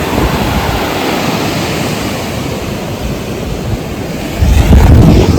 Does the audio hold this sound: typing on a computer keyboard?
no